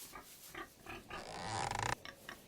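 Pigs in a pigsty in a Playmobil animation grunt and oink in a few short bursts, followed by a louder, denser squealing stretch that cuts off abruptly.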